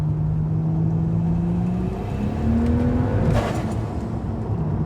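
Turbocharged Ford G6ET Barra engine making about 1150 hp, accelerating hard in a car, a loud rising roar that climbs in pitch, eases, then surges again with a brief burst of hiss near the end.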